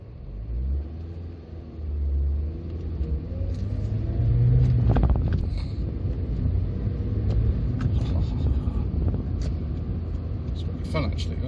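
A 2003 Toyota Yaris T-Sport's 1.5-litre engine hums and rumbles while driving at modest speed, rising slightly in pitch as it accelerates, with steady road noise underneath.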